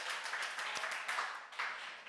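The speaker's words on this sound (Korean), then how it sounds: "자, 그리고 우리 옆 사람들에게도 박수 쳐줍시다." Church congregation applauding one another during a Sunday service, a soft, steady patter of many hands clapping, fairly faint and distant, with no talk over it.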